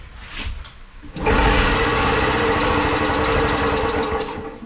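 An old two-stroke lawn mower engine with the choke on tries to fire after a pull, then buzzes in a loud, rapid, rattling putter that holds for several seconds close by, with no talk.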